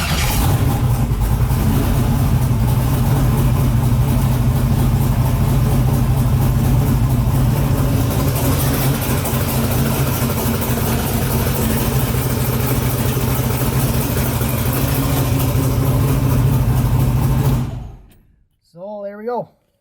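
A twin-turbo LS-swapped car engine runs loudly and steadily close by, a sustained low rumble and drone holding for most of the span before cutting off abruptly, followed by a brief fluttering wind-down.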